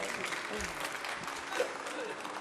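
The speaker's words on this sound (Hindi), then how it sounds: "ये तो ताली ताली बजाते" Audience applause at a Hindi-language yoga and Ayurveda gathering: steady, dense clapping fills the short stretch at moderate level, with voices talking faintly underneath.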